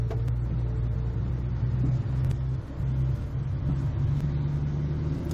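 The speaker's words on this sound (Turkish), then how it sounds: "Gazını artır." A car engine rumbles steadily and climbs as the learner driver accelerates on a city street during a driving lesson, with a low, continuous drone from inside the cabin.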